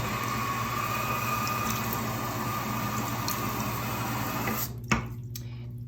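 Tap water runs steadily into a sink as a Lamy 2000 fountain pen is rinsed, with a constant close hiss that cuts off near the end, followed by a brief clatter and faint drips.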